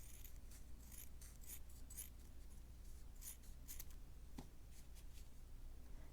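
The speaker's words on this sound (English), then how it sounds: "fold it in half, and then cut from the folded corner to the not folded corner" Scissors cutting folded paper into a triangle for a paper-craft house roof, a quick run of faint close snips and rustles over low background hiss, with no talk.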